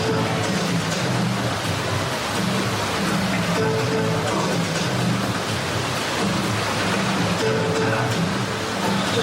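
Rushing, churning water on the Congo Rapids raft ride, a dense steady roar with a faint low rumble underneath that holds loud and close throughout, with no talking over it.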